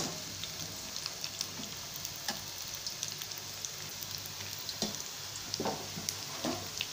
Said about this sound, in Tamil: நல்லா கோல்டன் கலர் வர அளவுக்கு நல்லா பொரிச்சு இடுங்க